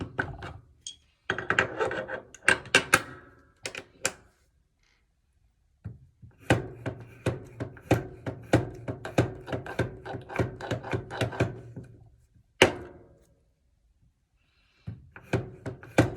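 A bassoon cane profiler's blade shaves clamped cane in repeated rasping woody strokes, bursts of fast scraping passes separated by short pauses, close and clear with no talking.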